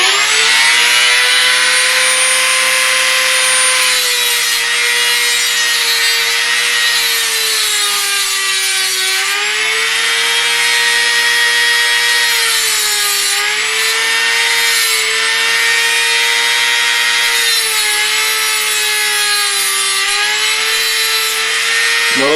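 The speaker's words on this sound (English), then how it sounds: "Notice how I cut small chunks rather than letting the wheel grind everything away." A Dremel cutting wheel slices through a lock pick blank in a loud, sustained high-pitched whine that rises and dips slightly as the cut proceeds, steady and close throughout with no talking.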